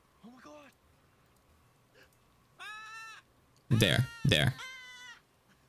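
Pet macaws screeching indoors: a few short harmonic squawks, then loud, harsh screeches in two or three close bursts, with a brief spoken word nearby.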